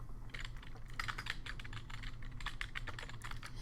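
Steady typing on a computer keyboard while building an outline, with quick irregular bursts of key clicks close by and a low hum underneath, no voices.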